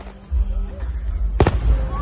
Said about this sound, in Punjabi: ਪਟਾਕਿਆਂ ਦੀ ਵੀਡੀਓ ਤੇ ਦੇਖ ਲਓ ਜ਼ਬਰਦਸਤ ਪਟਾਕੇ ਚਲਾਉਂਦੇ ਆ ਪੂਰੇ